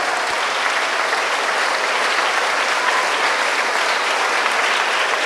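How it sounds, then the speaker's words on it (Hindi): A cathedral congregation claps together during a holy adoration service, a dense, steady wash of applause from many hands, loud and sustained with no voices over it. "Give a mighty applause to the Lord."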